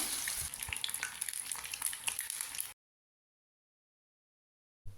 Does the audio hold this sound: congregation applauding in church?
no